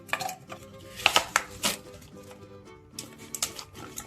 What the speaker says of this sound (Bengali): মা এখন পেঁয়াজ মশলা গুলা কাটছে